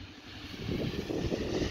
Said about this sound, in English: Man, it's a windy day.